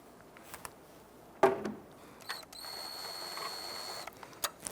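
Wrench and bolt work on the alternator adjuster of a 1992-1996 Toyota Camry: a sharp metallic clack, then a few light ratcheting clicks and a thin mechanical whir, close and fairly quiet.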